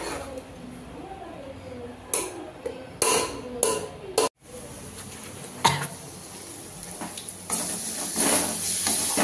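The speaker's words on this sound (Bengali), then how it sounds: "তো মশলাটা এখন কষাচ্ছি ভালো করে" Spice paste sautéing in a pan for a biryani-style meat dish, a low continuous sizzle broken by bursts of louder frying and scraping, with a brief silent gap.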